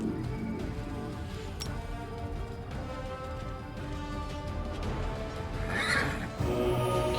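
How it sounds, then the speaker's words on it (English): Undead, plague-ridden horses neigh and whinny in the fantasy game Wrath of the Righteous, their calls rising over a steady bed of battle sounds, with a sharper whinny near the end. "Man, that's a lot of undead horses."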